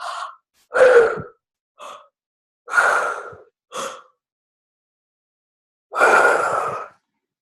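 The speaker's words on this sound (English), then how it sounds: "we're going to breathe that out with 3 forceful breaths" Several forceful breaths out, close and breathy, separated by short silences, including one longer exhale at the end.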